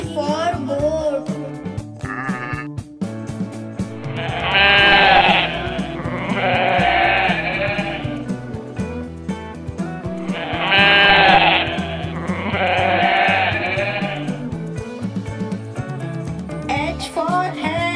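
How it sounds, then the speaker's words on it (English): Goat bleats, two pairs of loud wavering cries, sound over a cheerful children's phonics song with music running throughout. "G for goat."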